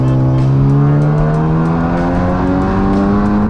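A modified 2019 Volkswagen GTI with an aftermarket intake revs hard, its engine note climbing steadily in pitch as it accelerates; loud, close and continuous with no talking.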